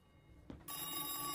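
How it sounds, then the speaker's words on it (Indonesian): A telephone bell rings, starting abruptly after a brief soft thud and then sustaining a loud, bright, continuous ring in a quiet room. "Namun tak lama telepon itu kembali berdering."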